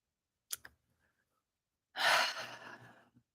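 Breath sounds from Bhramari pranayama (bee breath) practice: a brief close sniff-like inhale, then a strong, breathy exhale lasting about a second, loud and near, with no talking.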